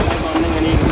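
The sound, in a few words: wind blowing near waterfall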